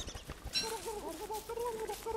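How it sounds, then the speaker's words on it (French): A turkey in the Don't Starve video game gives a series of warbling, clucking gobbles with rising and falling tones, fairly close, over faint game ambience. "On a un dindon qui est complètement paumé."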